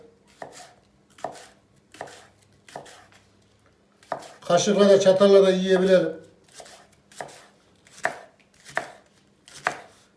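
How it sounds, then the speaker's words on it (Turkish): Leeks are chopped finely with a knife on a cutting board, sharp regular taps in a steady rhythm, broken midway by a brief louder clatter of dishes while a person talks. "Biraz ufak doğrayacağız."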